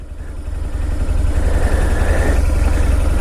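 A 2008 BMW R1200 GS motorcycle with 128,000 miles has its boxer engine running close by, a loud, steady low rumble with rapid pulsing and no talk over it.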